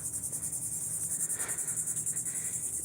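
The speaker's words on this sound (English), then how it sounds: "Can you hear that buzzing?" Insects, likely crickets, buzz in a park with a steady, pulsing high-pitched drone that carries on alone, moderately faint, without any talking.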